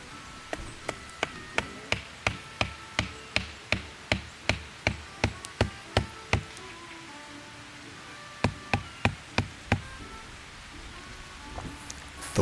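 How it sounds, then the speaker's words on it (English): Steady hammering of sharpened wooden stakes into the ground beside a campfire ring at a bushcraft camp, a long run of sharp evenly spaced knocks, a brief pause, then a few more blows, close and alone. "Then you want to hammer these stakes into the ground,"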